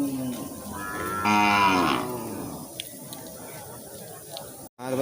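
A cow lets out one long, loud moo rising and falling at a cattle livestock market in Gurugok, Aceh, with crowd noise and faint talk around it.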